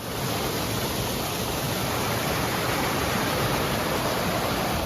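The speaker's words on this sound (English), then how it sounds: "We've been following this small creek ever since we got on this trail." Small creek flowing beside a woodland trail in the Quehanna Wild Area, a steady, close, continuous rushing wash of water with no voices.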